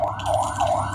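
An ambulance siren from a video game wails in clear rising and falling sweeps, two full cycles within a second, loud and up close.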